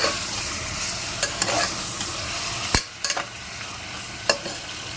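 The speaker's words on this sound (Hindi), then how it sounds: "इसको इसमें कैसे मिक्स करेंगे प्याज के साथ में और थोड़ा सा भूनेंगे" Mutton masala with onions is stir-fried in a pan, a steady low sizzle broken by several sharp spatula clanks and scrapes against the metal, close and without talk.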